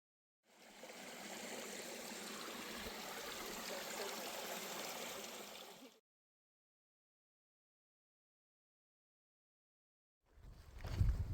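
Trout Lake Creek flowing along the Pacific Crest Trail, a steady broadband rush of moving water for several seconds, then silence before a brief louder burst of water at the end.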